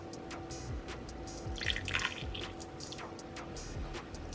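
Barbecue sauce and apple cider vinegar are poured into a slow cooker, heard as soft close drips and wet liquid plops scattered irregularly over a quiet background.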